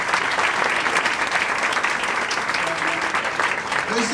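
An audience applauding at a Fuckup Nights event in Ankara, dense steady clapping from a crowd filling the whole stretch, loud and close, with faint voices mixed in.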